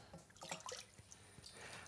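Water poured into a pan with glaze for a raspberry pastry, a soft uneven trickle with small drips and splashes that run steadily and fairly quietly for a couple of seconds.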